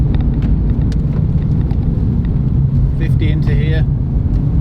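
A Renault Clio RS Line, the 2021 model, is floored up a steep hill, its engine giving a constant loud drone through heavy wind and road rumble, with someone talking over it and a brief whistling tone near the end.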